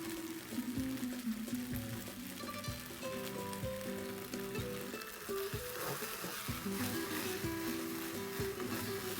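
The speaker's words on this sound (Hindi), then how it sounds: "अब इसमें जाएगा सोया सॉस।" Soy sauce going into a hot pan of fried idli with red and green bell peppers, sizzling steadily and loudly while the ingredients are stirred, with a brief pour in the middle.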